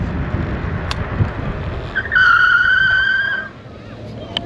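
A Rictor S9 electric scooter with two disc brakes brakes hard from about 19 mph to a full stop, giving a loud, sustained high-pitched brake squeal of about a second over steady wind and road rumble.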